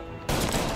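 Burst of machine gun fire in the game Mafia Definitive Edition, a sudden loud rapid volley that starts abruptly and continues without a break.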